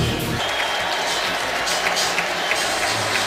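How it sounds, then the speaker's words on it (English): New England fans at First Energy Stadium in Cleveland applaud and chant at an NFL game, a dense, roaring crowd wash of clapping and voices filling the whole stretch. "all of the New England fans that are still here at First Energy Stadium standing and applauding and chanting Tom Brady's name"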